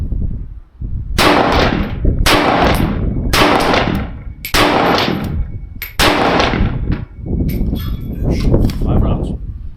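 Six rapid SKS rifle shots fired outdoors, each a loud sharp crack with a long trailing echo, spaced roughly a second apart.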